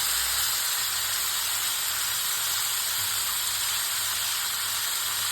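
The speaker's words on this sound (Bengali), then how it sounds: "মাছগুলো আমার ভাজা হয়ে গেছে, এবারে তুলে রেখে দেবো।" Fish frying in hot oil in a wok, a loud steady hiss and sizzle of spattering oil filling the whole clip without a break, with a faint low hum underneath.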